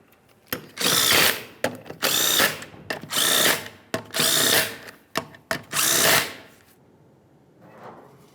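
Impact wrench or drill on a 1998-2011 Ford Ranger rear wheel, spinning 19mm lug nuts on in five loud bursts of about a second each with brief clicks between, then a faint clunk at the end.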